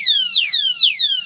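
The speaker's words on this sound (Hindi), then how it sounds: "ये है हमारा अलार्म डिसलॉक सिस्टम" Honda Hornet CB 125 motorcycle anti-theft alarm sounding, a loud, close electronic siren with two rapid downward-sweeping chirps repeating in a steady rhythm, no talking over it.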